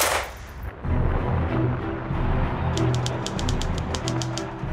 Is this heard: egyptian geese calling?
no